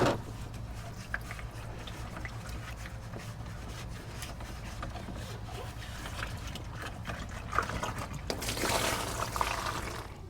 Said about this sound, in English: it's actually getting faster, so loosening it up actually helps with the draining